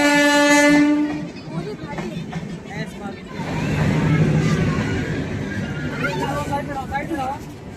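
A train at Colonelganj railway station sounds a loud, sustained horn blast, then rolls past with a steady, heavy rumble and clatter of wagons that continues to the end.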